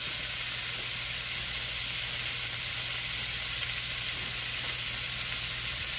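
About a pound of green beans stir-fry in a small pan, a constant, even sizzle and hiss that runs unbroken throughout with no voices.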